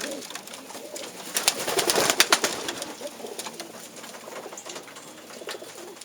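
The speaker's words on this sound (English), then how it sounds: "Gorgeous pigeon, gorgeous." Blue pigeons in a breeder's loft coo softly and repeatedly, with a cluster of louder calls and rustling near the middle, fairly close with no talking.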